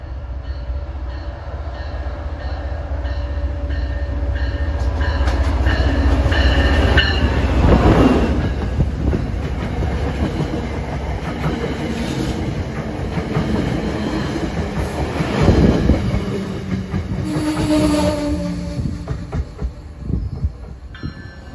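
A commuter train arrives at a station with a loud sustained rumble and rhythmic clatter of wheels over rail joints, with brief squeals as it slows, heard close without talk.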